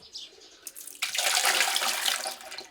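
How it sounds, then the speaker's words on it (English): A bucket of water poured to flush a toilet in a rural Bhutanese village bathroom: faint handling noises, then a sudden rush of splashing water that stays loud and close until the end. "fill up this bucket, and then this is how you flush."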